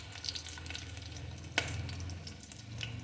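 Green chillies fry in oil in a pan and are stirred, giving a steady soft sizzle with a sharp scrape of the spoon midway and light clatter, close by and without talking.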